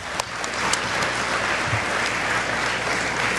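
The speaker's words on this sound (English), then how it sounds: "So can we please give these members a round of applause as well?" Steady applause from a luncheon audience at a regional chamber of commerce membership event, dense continuous clapping filling the room at moderate level without pause.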